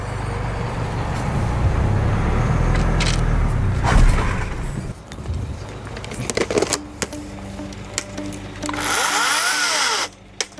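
A Greenworks 60V cordless 16-inch second-generation chainsaw runs close by, a steady electric whine that rises and drops as it cuts, with brief clunks and pauses before a final high-pitched burst.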